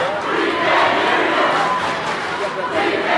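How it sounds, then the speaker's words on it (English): A gym crowd at a high school basketball playoff game roars and shouts together in a sustained loud wash of voices, with a commentator speaking over it. "Both crowds into it."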